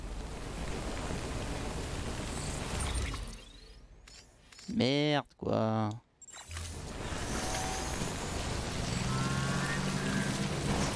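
Steady rain in Death Stranding, a constant broad hiss that runs throughout, briefly dipping while someone speaks in the middle.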